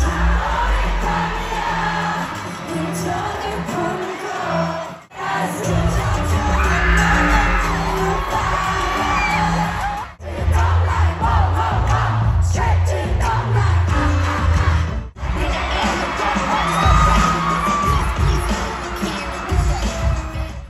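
Huge gala audience in Paris screaming and cheering for a performance, a dense continuous roar of shrieks and whoops over pounding bass music, loud and sustained with brief drops in level.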